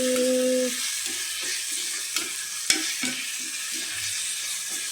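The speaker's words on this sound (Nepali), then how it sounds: "अब चाहिँ यसलाई मजाले चलाउँछु।" Vegetables and tomatoes are stirred in a cooking pan under a continuous sizzle. Rhythmic scraping strokes recur, with a couple of sharp clanks near the middle.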